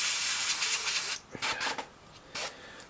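A paint spray hisses in a sustained burst onto a Primaris Vanguard miniature, then several short bursts follow with pauses between, close and moderately loud.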